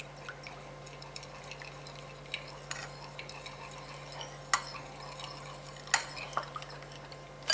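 Asian coleslaw dressing with sesame oil is mixed in a bowl: soft scraping and stirring with light clinks of a utensil, and a few sharper knocks, quiet and close over a low steady hum.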